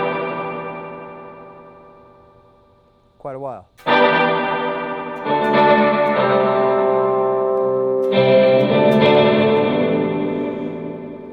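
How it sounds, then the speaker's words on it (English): An electric guitar runs through an echo pedal turned all the way up, its repeats stacking into a loud, sustained wash with fresh strummed chords layered over the trailing echoes, and a brief spoken phrase partway through. "it's not actually reacting to me playing so much as we're just hearing an echo"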